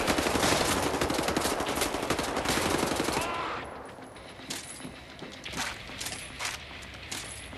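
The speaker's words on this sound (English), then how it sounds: "Shoot. I'm shooting." Gunfire in the video game Wolfenstein: The New Order, a dense burst of rapid shots for about three seconds, then scattered sharp mechanical clicks and single bangs at lower level.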